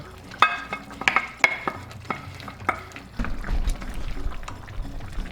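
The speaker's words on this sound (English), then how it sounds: "Going to mix that in carefully." Spoon stirring okra soup with pieces of smoked fish in a pot, a few scraping knocks against the pot's sides, then a steady low bubbling simmer underneath.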